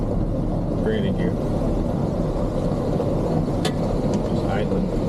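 A steady, close idle from an old Chevrolet squarebody 4x4 truck engine, a constant low drone with brief voices faintly heard over it.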